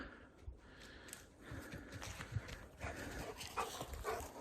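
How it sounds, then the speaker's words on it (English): Excited dog out in the woods, with faint panting, whimpering and scuffling close by against a steady outdoor background, a few sharper bursts near the end but no clear barks. "This dog is just going absolutely crazy."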